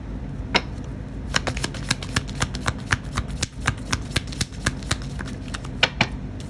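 A deck of tarot cards shuffled and drawn from at close range, a quick run of crisp riffling flicks and taps in an uneven rhythm, with no voices.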